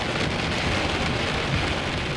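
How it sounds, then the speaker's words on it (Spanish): A violent storm pours heavy rain in a dense, constant roar, with a low rumble of thunder underneath, loud and continuous with no voices. "Probablemente fue después de medianoche cuando comenzó la tormenta."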